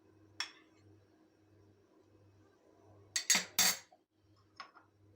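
A spoon clinking against a bowl while mixing yogurt, rice flour and apple cider vinegar, a single tap, then a cluster of three sharp scraping clinks and a faint final tap over a quiet low hum.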